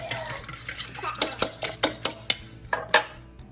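Fork beating eggs and milk in a bowl, sharp rhythmic clinks of metal against the dish growing steadier and louder, close and clear with no talking.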